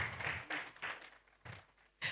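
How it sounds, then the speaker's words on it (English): Faint applause for a speaker being welcomed at a health care symposium comes in uneven, hissy bursts, with brief near-silent gaps between the waves of clapping. "A round of applause, everyone."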